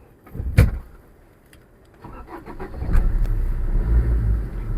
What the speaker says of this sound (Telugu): ఒకసారి ఇంజిన్ స్టార్ట్ చేస్తాను